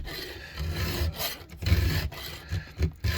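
A file rasps against a chainsaw chain while it is sharpened, a damaged chain being repaired; a short run of close, gritty strokes in an uneven rhythm, each a brief scraping burst separated by small pauses.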